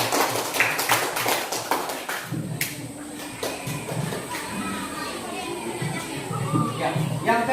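Classroom of students giving a short round of clapping for a presentation group, sharp claps at the start thinning into scattered taps, with children's voices and shuffling around.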